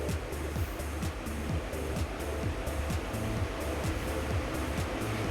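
Onions and coriander fry in a pan for a chicken sambar, a loud, dense sizzle with a quick, regular rhythm of strokes as the mixture is stirred, without any talking.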